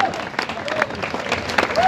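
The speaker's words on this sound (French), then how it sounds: "Merci d'applaudir encore une fois" An audience applauds at a fashion and hairstyle show in Yaoundé, a dense patter of clapping from a crowd with voices and whoops mixed in.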